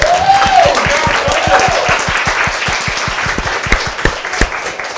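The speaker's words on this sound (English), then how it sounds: "Round of applause for the judges" A crowd at a student hackathon final applauds the judges with dense, steady clapping for several seconds, and a brief voice cries out near the start.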